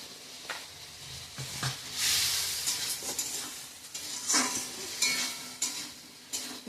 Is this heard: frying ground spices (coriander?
yes